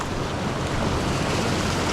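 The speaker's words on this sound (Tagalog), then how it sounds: "Lalaki ng alon dito." Steady roar of ocean surf with wind rushing across the microphone, a continuous loud wash of water and no voices.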